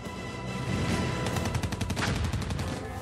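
An armoured personnel carrier fires its gun upward in a fast, loud volley of repeated shots. The rattle runs for about three seconds with a booming low end, and nobody is talking.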